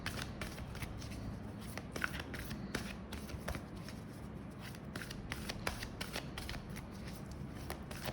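A tarot deck being shuffled by hand for a card reading, quiet rapid riffling and flicking of cards with soft repeated slaps, close up and without speech.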